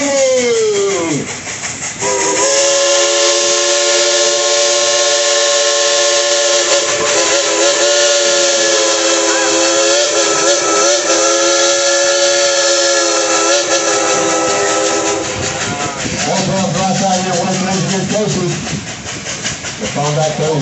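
Steam train engine at Dollywood climbing a mountain grade, its whistle blowing loud and sustained for most of the run with a brief break near the start and a shift in tone toward the end, hissing steam underneath.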